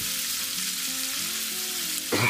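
Pieces of raxo pork fry in a pan with a loud, continuous close-up sizzle, faint low tones underneath and a brief knock right at the end.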